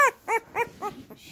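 A nine-day-old puppy gives four or five short, high whimpering yelps in an uneven rhythm, close by, with quiet pauses between the cries.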